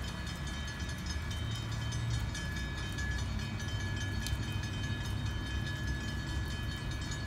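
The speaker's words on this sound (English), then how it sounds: "Train number two." A northbound train rolls past at Cornelia, Georgia, with a loud continuous rumble of railcars and rhythmic wheel noise, plus a faint high tone, holding steady throughout.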